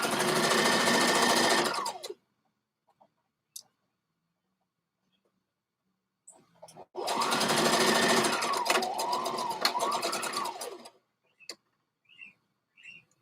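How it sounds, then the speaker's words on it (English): A sewing machine stitching a garment's shoulder seam runs loud and close in two long whirring bursts, separated by near silence with a few faint ticks and clicks. "So we stitching this shoulder."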